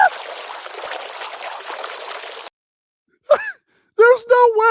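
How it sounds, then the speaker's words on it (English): Water dripping and trickling effect from the StreamYard soundboard, a steady watery hiss for about two and a half seconds that cuts off abruptly, followed by a few short vocal sounds. "Hey, a little bit of drip, right?"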